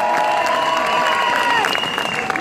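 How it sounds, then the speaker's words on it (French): A crowd at a street demonstration against Islamophobia at Place de la Nation in Paris applauds and cheers loudly, dense continuous clapping with a whistle-like tone ringing over it. "un tonnerre d'applaudissements pour Omar Slaouti"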